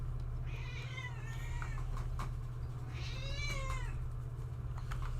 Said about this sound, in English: My cat is yelling at me.